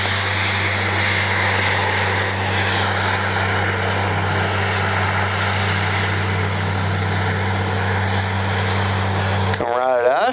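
A Flightline OV-10 Bronco RC plane runs up for takeoff, its twin engines and propellers holding a loud, steady droning whine close by for about ten seconds before cutting off abruptly at the end.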